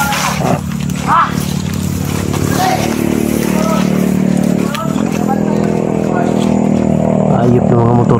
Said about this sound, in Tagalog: Ayop ng mga motor to, ang dami. Kanina pa itong mga motor na ito mga idol.